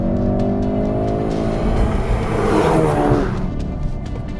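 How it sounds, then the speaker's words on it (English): A 2016 Ford Focus RS, all-wheel drive, accelerating hard with a loud, continuous engine roar that rises in pitch, with sharp exhaust crackles and pops mixed in close to the microphone. "And it's not just that, the crackles from the exhaust. Just have a listen here."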